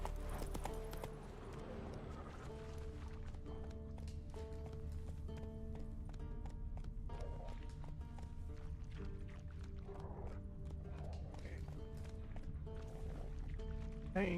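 Roach, the horse in The Witcher 3, gallops steadily across a battlefield, hooves thudding in a fast continuous rhythm for the whole stretch, with a low ambient drone underneath and no talking.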